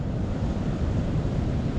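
Surf breaking on a Washington beach just after high tide, a dense continuous roar of high waves with wind noise over it, close and loud, no talking.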